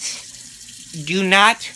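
A tap runs hot water into a sink as a steady, soft hiss under a voice, with a rising pitched sound near the end.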